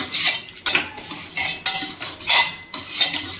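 A metal spoon stirs cooked dal in a pot, clinking and scraping against the sides in irregular bursts with short pauses between strokes. No one speaks.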